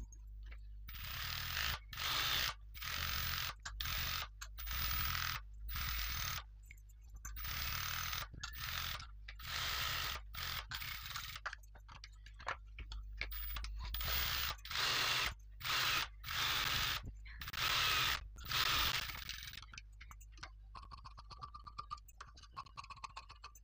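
A sewing machine stitches the waist and neckline of a parrot-green blouse in short mechanical whirring bursts, separated by pauses. Each run is close and clattery, and the runs grow lighter and more scattered toward the end.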